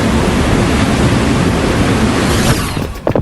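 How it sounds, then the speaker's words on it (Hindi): Water gushing loudly from burst pipes indoors, a dense continuous roaring rush close to the microphone that cuts off near the end into a few brief knocks. "पानी लीक हो रहा है"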